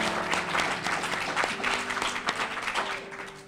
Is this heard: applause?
yes